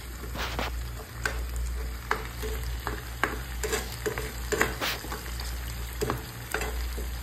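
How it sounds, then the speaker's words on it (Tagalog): Chopped garlic fries in a pan for a chicken wings Bicol Express, with a steady close sizzle and frequent sharp clicks and scrapes from a utensil stirring. "Hintayin natin mag-brown yung bawang bago natin ilagay yung sibuyas"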